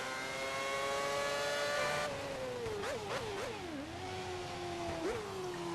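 A Formula One car's engine screams in F1 2010 during qualifying at Malaysia, a high, steady whine that drops and wavers through quick downshifts and braking into a corner, then climbs again, loud and close with no talk.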